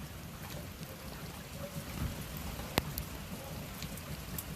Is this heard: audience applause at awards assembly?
no